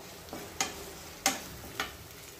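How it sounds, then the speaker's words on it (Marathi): Whole spices for egg biryani are briefly sautéed in oil and stirred with a spoon: a soft, faint sizzle with three light, sharp clinks of the utensil against the pan. "हे मसाले आपण खडे मसाले या तेलामध्ये हलकेसे परतून घ्यायचे आहेत"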